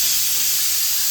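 A kitchen pressure cooker vents steam in a loud, continuous close-up hiss that fills the short moment without any voices.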